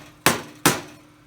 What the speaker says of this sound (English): We're going to take one of the old bearings and then a socket on the sleeve and see if I can drive that down